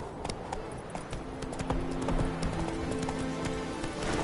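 Roach, the horse in a video game, gallops in a steady clip-clop rhythm of hoofbeats, moderately close and alone, with no talk over it.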